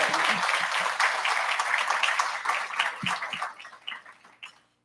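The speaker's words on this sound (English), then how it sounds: "So if I could ask for a round of applause for Danny, Bernie, and the entire team at Fo" An audience claps steadily, loud at first, then thinning out and fading to silence.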